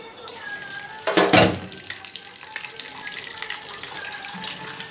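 Small shrimp being rinsed under a running kitchen tap, a steady wash of splashing water with a sharper gush near the start, close and continuous throughout.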